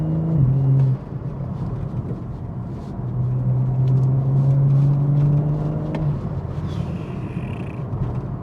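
A modified, boosted BMW M135i with traction control off pulls hard through rapid gear changes. Its engine drones steadily, breaks off sharply at each shift, then resumes its strained tone, heard from inside the cabin.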